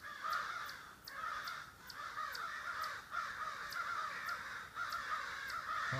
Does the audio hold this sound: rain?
no